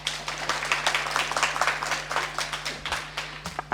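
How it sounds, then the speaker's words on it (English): Audience applause for speakers at an interfaith peace conference, a steady wash of many hands clapping throughout, moderately near, with no talk over it. "Would you give them another round of applause?"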